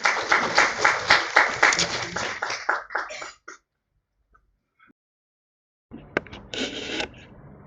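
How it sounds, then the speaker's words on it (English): A workshop audience on research writing and publishing at VNSGU claps to welcome a speaker: dense clapping for about three seconds that thins and stops, a quiet gap, then a few scattered claps and a short renewed burst. "let's welcome with a big round of applause Praveen Dudhagra sir"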